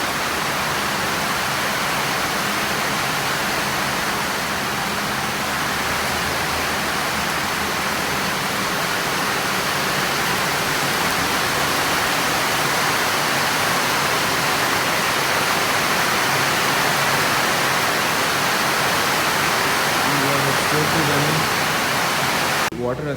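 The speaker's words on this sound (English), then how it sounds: "It's raining inside the temple as well" Heavy rain pours at a temple in a constant dense roar, water coming inside, a thick unbroken hiss close by that barely changes over the whole span.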